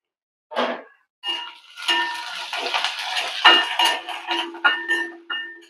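Thick-cut onion sautéing in a pan, a steady sizzle with scattered clinks and scrapes of a spoon against the metal, close and moderately loud, with no voices.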